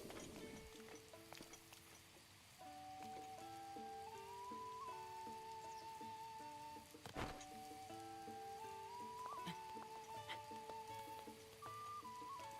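Soft, steady rain patters in the video game The Legend of Zelda: Breath of the Wild, faint and continuous beneath gentle melodic game music.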